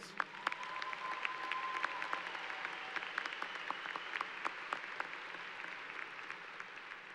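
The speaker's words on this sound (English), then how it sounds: "Give them a big round of applause." A large crowd applauds at a college commencement ceremony, a sustained, even patter of many hands heard from a distance and fairly faint, with scattered sharper claps standing out and no speech.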